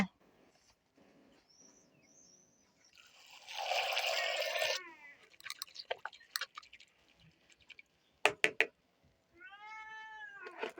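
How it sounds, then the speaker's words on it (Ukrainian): A cat meows a few times between rustling and clicking noises, with a burst of hissy noise and a faint bird chirp nearby. "То кіт там мявкав."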